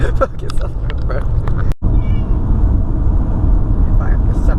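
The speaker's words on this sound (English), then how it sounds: "If I have to suffer through all this meowing." A cat meows several times at close range over steady low background rumble, with one brief sharp dropout partway through.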